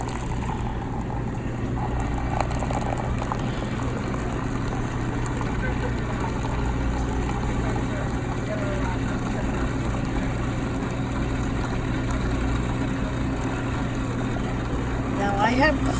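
A McDonald's hot chocolate machine runs with a steady low electrical hum and faint mechanical whirring, while voices murmur indistinctly in the background.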